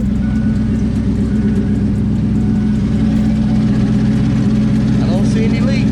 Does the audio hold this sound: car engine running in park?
yes